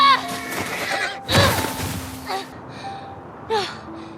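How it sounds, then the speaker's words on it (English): A horse in The Last of Us video game whinnies sharply several times, close and loud, with breathy snorts and faint hoof sounds in between. "Callus was Ellie's horse for a short while in part 1"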